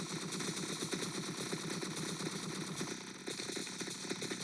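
Rapid automatic gunfire in the video game Entry Point, with units getting shot: dense, continuous bursts of shots and crackle, loud and sustained with no talk.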